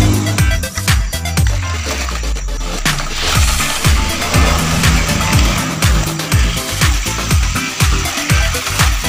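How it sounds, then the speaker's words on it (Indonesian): A 1:20 scale RC rock crawler with an upgraded battery drives nearby, its small electric motor whining and revving in repeated bursts with rattling and clattering over rough ground, loud and close throughout. "Mobil remote-nya lumayan kenceng ya."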